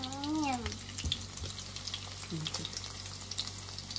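Meatless cutlets frying in a pan, a steady crackling sizzle close up with a few dull knocks of a utensil, and a short tonal squeak at the start, with no voices.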